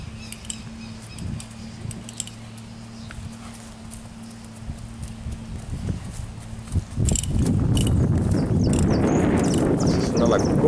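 A calm, relaxed dun roan working horse walks at an easy pace, its hooves clip-clopping in a steady rhythm close by, getting louder and denser in the second half with some wind and faint birds.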